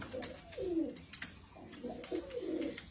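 A domestic pigeon coos softly in two rolling, repeated phrases, fairly close, with no talking.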